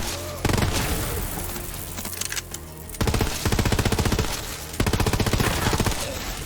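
Sustained full-auto fire from a legendary Borderlands 3 weapon, rapid loud shots rattling in two or three long bursts with brief pauses between them, with no talking over it.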